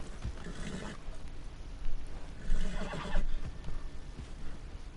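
A horse whinnies a couple of times in a video game over a busy, rumbling background, with a few thudding movements and a brief hoof-like clatter.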